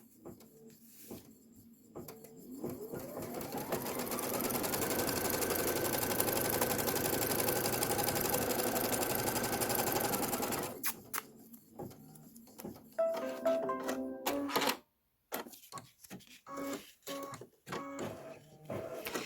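An embroidery sewing machine stitches a placement line, ramping up into a loud, steady whirring hum that runs for several seconds, then stops and gives way to clicks, thumps and small handling noises.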